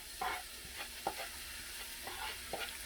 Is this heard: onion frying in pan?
yes